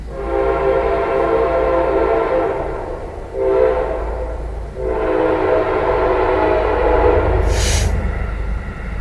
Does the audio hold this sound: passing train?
yes